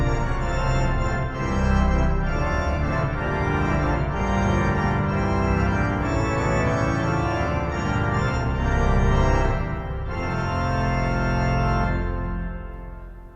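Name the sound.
1906 Felgemacher pipe organ with 4-foot coupler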